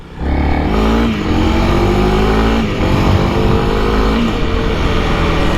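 2021 Honda CRF300L motorcycle accelerating quickly, a loud close engine note climbing in pitch through the gears with brief dips at each shift, steady and continuous.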